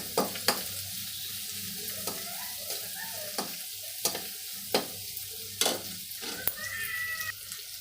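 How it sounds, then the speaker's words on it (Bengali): Vegetable cutlet mixture frying in butter in a pan, a low sizzle punctuated by sharp spatula taps and scrapes every second or so, close and without speech. "এটাকে হালকা করে একটু ভেজে নেব"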